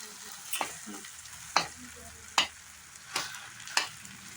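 Chow mein being stirred in a frying pan, with five sharp scraping strokes of the spatula spaced about a second apart over a soft background sizzle, close and fairly quiet.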